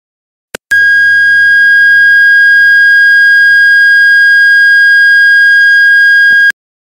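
A Tucano alarm siren sounding a single steady, piercing electronic tone, very loud and close, held unbroken for about six seconds after a brief click, then cut off sharply.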